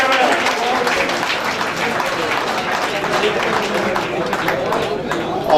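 Sustained applause from a large gathering of an All Pakistan Jamiyat Ul Abbas community assembly, dense and steady throughout, with crowd voices mixed in beneath the clapping.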